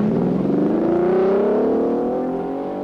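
Giannino Marzotto's Ferrari race car in the 1953 Mille Miglia near Ravenna, a loud engine roar rising and then sliding down in pitch as it sweeps past, fading slightly at the end.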